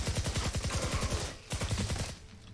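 Rapid automatic gunfire from the RATATAT weapon in Fortnite Save the World, two tight bursts of quick rhythmic shots, the first about a second and a half long and the second shorter, loud and close.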